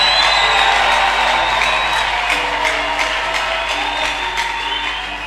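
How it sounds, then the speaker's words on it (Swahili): Church congregation clapping in a dense, sustained wash of applause with cheering voices mixed in, loud and steady throughout, easing slightly toward the end. "Ongeza makofi zaidi ya kawaida."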